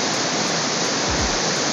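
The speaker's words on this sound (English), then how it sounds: "I kind of wanted to go from the upper left side and catch all this water streaming down here" Steady, loud broadband roar of a waterfall on Zlatibor Mountain, water streaming down continuously and close by, with no talk.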